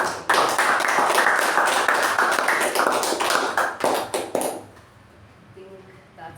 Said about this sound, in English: huge round of applause to our Toastmaster of the Day